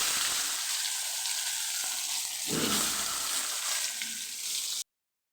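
Pointed gourd coated with salt and turmeric fries in hot oil, giving a steady, close sizzle and hiss that runs throughout, with a faint shift midway, then stops abruptly.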